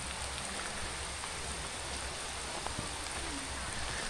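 Steady rain falls on open land in Bohol, a dense, even hiss of drops with occasional louder nearby splashes, continuous and close.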